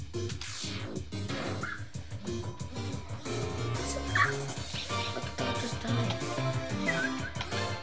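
Lesser Dog in the Undertale video game, with dog-like barks and yips scattered through game music, mid-loud and mixed in with the score.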